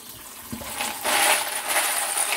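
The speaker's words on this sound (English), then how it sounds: "So now we're going to go ahead and strain it." Wet-tumbled brass cartridge cases are poured into a strainer, clinking and rattling against metal as water drains off, louder in the second half, with no talking.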